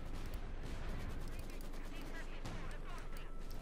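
Battle in Company of Heroes 2: a dense, continuous crackle of gunfire and explosions from an artillery barrage, loud and steady throughout, with a voice talking over the combat.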